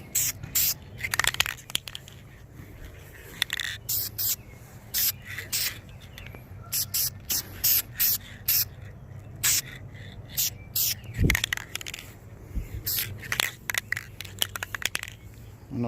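Aerosol spray paint hissing in repeated short bursts onto the front brake calipers of a 2004 Suzuki GSXR 1000 motorcycle, close and fairly loud, with some quiet handling noise between sprays.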